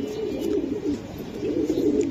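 Kaldom pigeons coo steadily in a low, rolling murmur, several birds overlapping and fairly close, with the cooing swelling and easing across the whole stretch.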